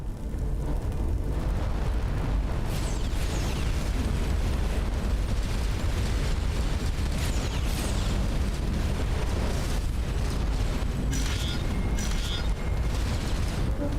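Explosions in space combat in Starcom: Unknown Space, a dense, continuous roar of booms and bursts throughout, loud and close with no pauses.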